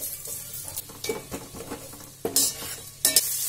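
Sliced onions frying in a pan with curry leaves while being stirred, soft sizzling under intermittent scrapes and clinks of a spoon against the pan, with a few sharper knocks near the end.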